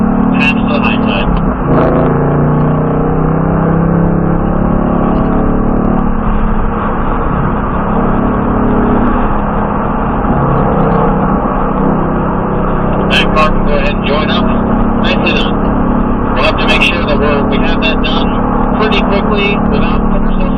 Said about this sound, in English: The lead car can go ahead and drop to the bottom. And the back two cars can go ahead and pass to the high side.